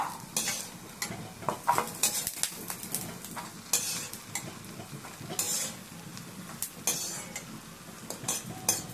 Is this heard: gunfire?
no